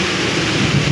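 Thunder rumbles through a heavy downpour, a steady dense roar of rain with low rolling booms, loud and continuous throughout.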